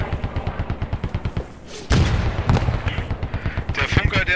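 Gunfire in the military shooter Post Scriptum arrives from the left as a steady run of rapid shots. A heavier burst and boom break in midway, with muffled radio chatter underneath.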